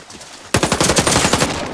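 Rapid automatic gunfire from an online military shooter game starts abruptly after a short quiet lead-in, a loud, fast burst of shots rattling steadily to the end.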